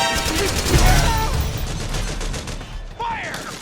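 Sustained gunfire fills a Metal Gear video game battle, a loud continuous barrage of shots with voices calling out over it.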